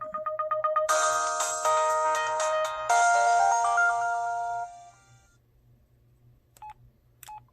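Start-up tone of an LG Rumor Sprint phone: a loud, near, bright electronic melody of stepped ringing notes that fades out after about five seconds, followed by two brief faint beeps.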